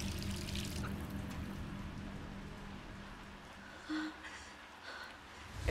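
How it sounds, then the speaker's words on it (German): Shower water streams steadily in a bathroom in Resident Evil 3 Remake, a soft continuous rain-like patter that holds quite level, then thins toward the end as the flow is shut off. "Hier duscht jemand. Und ich stelle erstmal das Wasser ab."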